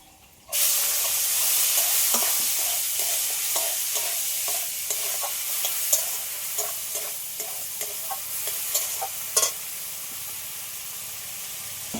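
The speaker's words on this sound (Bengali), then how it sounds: "চিংড়ি মাছগুলো সব একটু লাল লাল করে ভেজে নিয়েছি" Prawns seasoned with turmeric and salt fry in a pan, a steady close sizzle running the whole time with repeated soft clicks and scrapes of stirring.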